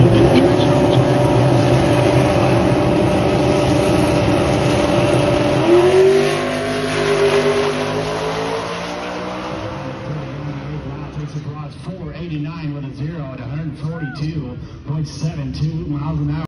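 A drag race car on a qualifying pass roars at full throttle, loud and sustained, then the engine note drops and drones on as the run winds down, with voices talking over it.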